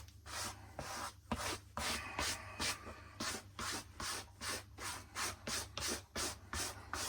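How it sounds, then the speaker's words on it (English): A brush sweeps back and forth over the felt of a Lock & Co Homburg hat in steady, rhythmic scratchy strokes, close and fairly quiet, with no talking. "Just giving it a good old brush."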